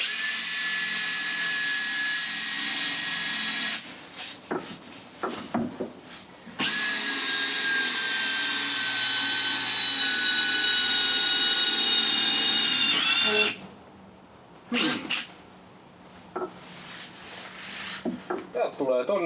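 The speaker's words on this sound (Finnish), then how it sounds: "porataan tohon nyt 1 reikä." A power drill bores a hole into a vehicle's frame rail during off-season work with the engine lifted out, whining steadily at close range in two long runs separated by shorter bursts and clattering handling noises.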